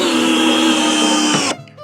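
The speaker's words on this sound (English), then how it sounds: "we can come down here to our cordless drill and turn it on and it'll wind up the" A cordless drill winding up the arm of a catapult mounted on a pickup truck, a loud close motor whine held steadily for about a second and a half before cutting off abruptly.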